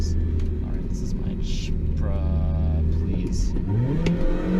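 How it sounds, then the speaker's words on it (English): A supercharged Mini R52 engine revs and accelerates from inside the car, a steady mid-pitched rumble that climbs as it pulls, with speech mixed in. "this car is so much nicer with the supercharger"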